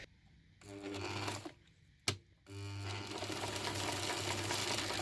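A sewing machine runs a wide zigzag stitch over butted ends of knitted elastic, in a short burst, a brief pause and click, then a longer steady run, close and fairly quiet.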